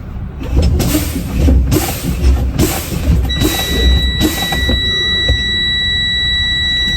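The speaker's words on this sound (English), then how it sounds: "my low air pressure warning light and buzzer came on above 60 psi" Truck low air pressure warning buzzer sounding in the cab of a manual Class A truck during an air brake test, a steady high-pitched electronic tone starting partway through over rumbling engine and air noise.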